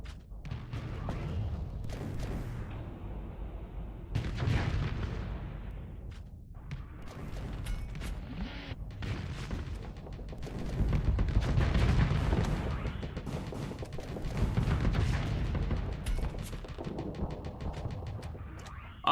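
Missiles striking a ship in the space combat game Starsector, a dense barrage of booming impacts and rattling gunfire-like bursts that swell and ebb, continuous and moderately loud with no voices.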